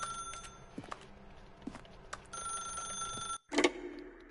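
A telephone rings in The Stanley Parable, with repeated bright bell bursts over a quiet game background, loud and near, followed by a clatter as the receiver is picked up.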